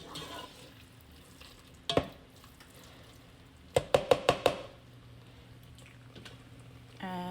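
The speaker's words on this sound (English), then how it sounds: "we're going to go ahead and stir this" A spoon stirs marsala wine sauce melting down in a pan: a single scrape, then a quick burst of four or five clacking strokes against the pan, over a soft bubbling sizzle, with no talking.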